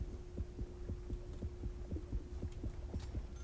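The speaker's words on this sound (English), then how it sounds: "You can hear the heartbeat." Heartbeat warning cue signalling an approaching shark in the underwater game Depth: a steady, fast, muffled double thump repeating under a low, constant hum, with no talk.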